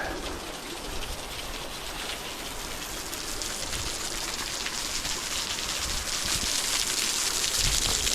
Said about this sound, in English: Hot water waterfall. See, it's just coming out of the